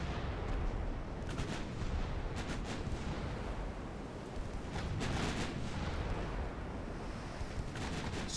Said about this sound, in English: Small 3-inch guns are opening fire.